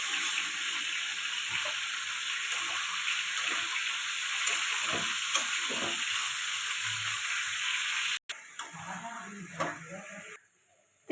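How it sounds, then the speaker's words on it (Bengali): Curry cooking with fish oil in a pan, a steady soft sizzle and hiss running throughout with occasional stirring scrapes, briefly cut off and resuming quieter near the end. "লবণ দিয়ে দেবো এটা ভালো করে কষাতে থাকবে একটু জল দিয়ে দেবো পরিমাণ মতো তেল"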